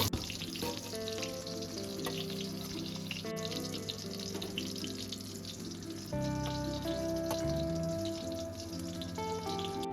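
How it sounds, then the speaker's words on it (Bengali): Cauliflower florets deep-frying in hot oil in a home kitchen give a steady, dense sizzle and bubbling that runs the whole time, growing a little heavier toward the end. "এই তেলের মধ্যে কপিগুলোকে ভেজে তুলে নেব ফুলকপিগুলো দেখো লাল লাল একদম ব্রাউন কালার হয়ে গেছে"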